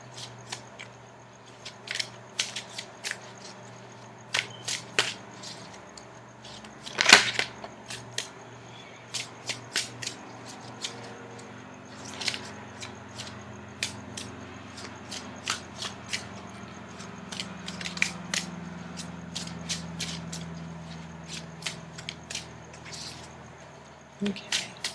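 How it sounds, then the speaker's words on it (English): Tarot cards are shuffled close up in short, soft riffling bursts with small taps and slides between them, quiet and irregular. "Now I'm going to shuffle for the outcome card."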